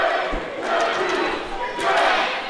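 Wrestling crowd at an IPW independent show in Des Moines roars continuously, a broad wash of cheering and yelling that swells and dips, with a dull thud near the start.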